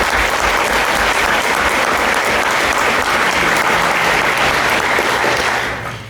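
An audience at an evening debate breaks into sustained, dense applause to welcome a speaker, loud and even throughout before tapering off at the end.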